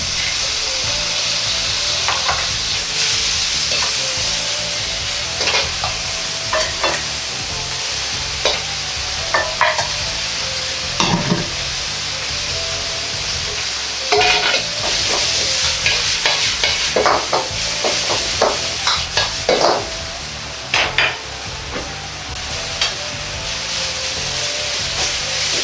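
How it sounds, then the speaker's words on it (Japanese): Carrot, bamboo shoots, bean sprouts and cabbage stir-frying for Nagasaki champon, a loud continuous sizzle broken by frequent scraping and tossing strokes of a utensil in the pan. "次に人参、たけのこ、もやし、キャベツを入れて炒めます。"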